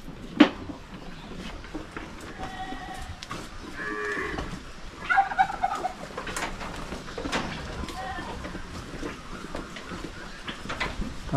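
Goats bleating on a farm in the Philippines, with several drawn-out calls scattered across the clip among birds cooing and other rural background noise, while someone talks intermittently.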